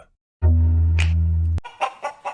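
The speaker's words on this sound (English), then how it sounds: "the chickens have arrived at Parker Family Feed in Bellwood" Chickens cluck as a sound effect in a radio ad for a feed store, one loud sustained tone giving way to several short, close clucks in a brisk rhythm.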